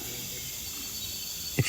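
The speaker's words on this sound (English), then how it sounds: "it's the sound of the Amazon jungle at night" Amazon jungle at night beside a small pond, with a dense, continuous wash of high cricket and insect chirring throughout, plus a brief low thump near the end.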